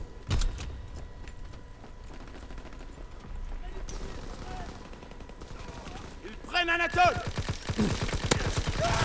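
Gunfire from the video game Call of Duty WWII, bursts of shots and rattling weapon fire scattered through the clip, mixed with game sounds and a player's voice.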